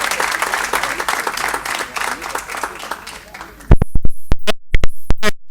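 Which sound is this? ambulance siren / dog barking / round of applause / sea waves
round of applause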